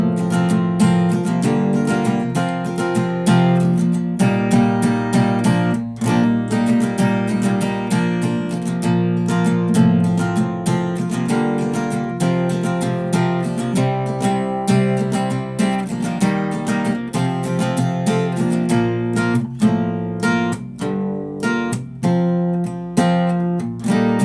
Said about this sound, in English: The chorus strumming pattern is going to sound something like this.